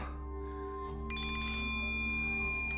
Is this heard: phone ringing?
yes